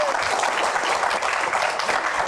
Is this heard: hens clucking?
no